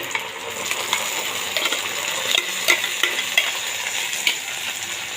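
Ginger, garlic and green chillies sizzle loudly in a pan as a paste is poured in, with steady crackling frying noise, scattered metallic clinks and stirring scrapes throughout.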